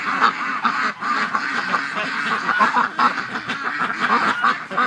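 Wintering ducks and geese held together in a pen quack and honk close by in a loud, overlapping chorus, with short rhythmic calls repeating steadily and no human voice over them.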